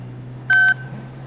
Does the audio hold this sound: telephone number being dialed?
yes